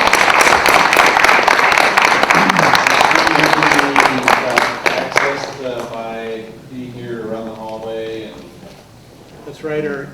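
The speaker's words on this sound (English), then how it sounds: "How about another round of applause for Steve Henrikson here?" A museum exhibits talk audience gives another round of applause for Steve Henrikson, a dense burst of clapping that fills the first five seconds before fading, after which someone speaks.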